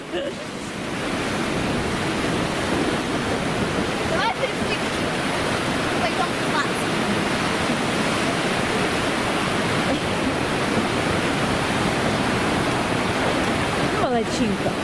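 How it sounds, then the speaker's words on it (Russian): Sea waves wash steadily onto a shore on a bright day, a dense continuous roar of surf that stays loud and near throughout, with faint wind buffeting the microphone and no clear talk. "Видите, какое море сегодня хорошенькое."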